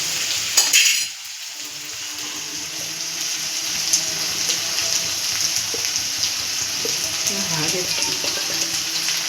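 Potatoes and onions sizzle in a pan for a homemade spiced potato sabzi, a constant near crackling fry with occasional stirring clatter, opening with a short metallic clink.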